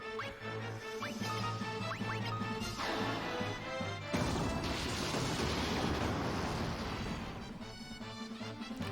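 A thunder spell attack in Final Fantasy II crashes loudly over the game's background music, a sharp burst followed by a long crackling rumble that fades out.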